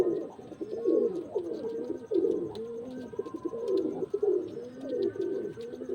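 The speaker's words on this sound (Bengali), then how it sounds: "পায়রা দেখাচ্ছি, মাদি পায়রা।" Female pigeons in a loft coo steadily in repeated rounds, close and clear, with several birds overlapping throughout and no voices present.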